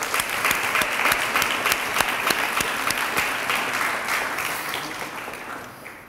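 An audience at a Massachusetts math and science results announcement claps in a sustained round of applause, dense and even at first, then gradually thinning and fading toward the end.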